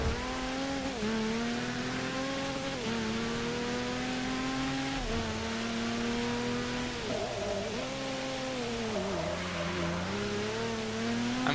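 A race car in Forza Motorsport 6 on a wet, rain-soaked track drifts and slides, its engine droning and revving up and down in long sustained pitches with tire noise, loud and continuous without speech.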